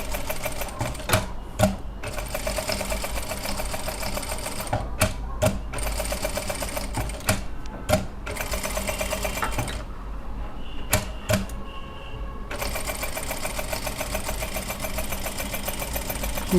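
A sewing machine running a circular stitch for resham embroidery, fast rattling needle bursts in several runs broken by short pauses and one longer gap, loud and close, with no talk over it.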